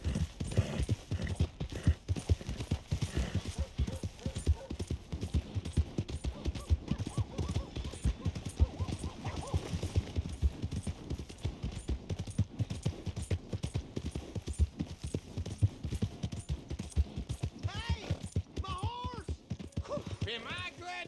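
Horse hooves clip-clop in Red Dead Redemption 2 around the town of Valentine, a rapid rhythmic trotting patter that carries on steadily, with faint voices and a few other game sounds in the background.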